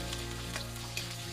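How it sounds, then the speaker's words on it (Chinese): Scallions, ginger, garlic and sausage slices sizzle steadily in hot cooking oil in a wok, a dense continuous frying hiss close up with a faint stir. "锅中加入食用油，下葱、姜、蒜和5片香肠"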